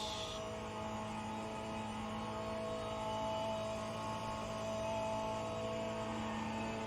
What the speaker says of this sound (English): Another LMP2 goes past.